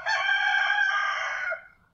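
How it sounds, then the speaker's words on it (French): A rooster in the Philippines gives one long, loud, close crow that holds steady, then fades quickly into quiet. "on entend des chants de coques tout le temps"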